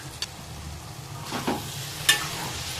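Okra and tomato curry with coriander powder and garam masala is stirred in a pan, producing a low, gentle sizzle with a few light scrapes and one brighter clink.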